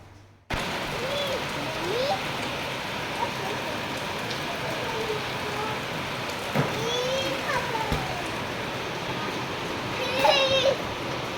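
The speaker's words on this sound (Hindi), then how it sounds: "बाहर बहुत ज़ोरों से बारिश हो रही है" Heavy rain falling outside during a pregnancy vlog, a steady dense hiss of drops that holds throughout at moderate level, with faint distant children's voices and small knocks underneath.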